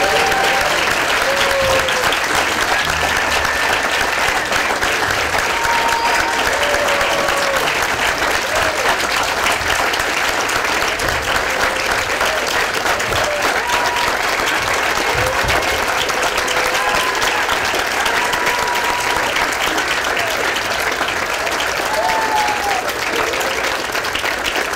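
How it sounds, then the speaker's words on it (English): An audience at the KGI 2010 commencement claps for the graduating class, giving sustained, loud, dense applause from a large crowd. The clapping stays steady for the whole stretch, with a few faint cheers or calls mixed in. "Let's give a round of applause to the class of 2010."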